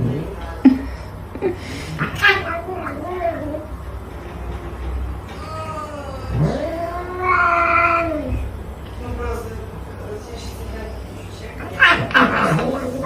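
A cat meows and caterwauls in long, wavering, drawn-out cries at home, loud and close, mixed with people talking and laughing.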